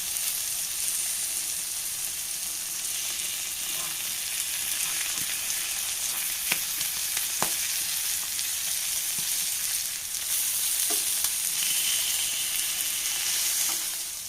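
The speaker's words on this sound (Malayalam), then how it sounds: "ഇനി നമുക്കിത് എല്ലാ മീനും മറിച്ചിട്ട് കൊടുക്കാം എന്നിട്ട് ആ സൈഡും നമുക്ക് ഫ്രൈ ചെയ്തെടുക്കാം" Fish frying in hot oil with curry leaves and shallots, a dense continuous sizzle with scattered clicks and taps as the pieces are flipped, close and loud throughout.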